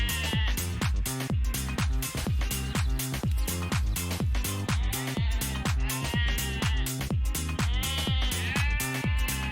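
A flock of sheep bleats continuously during herding in open northern frontier pasture, many overlapping loud, close calls in a steady rapid rhythm with no talking.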